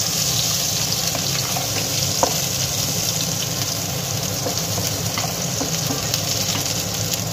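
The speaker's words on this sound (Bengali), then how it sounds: "এবার দিয়ে দিলাম পেঁয়াজ। এবার এটাকে ভালোভাবে ভেজে নেব।" Chopped onion and green chilli frying with garlic in a pan for a raw katla fish curry make a dense, continuous close sizzle, with a brief clack of a utensil partway through.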